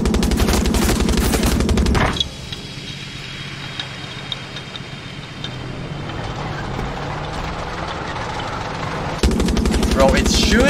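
A tank's gun in the video game Far Cry 6 fires on its own, a loud rapid machine-gun rattle at the start and again near the end, with an engine idling between bursts.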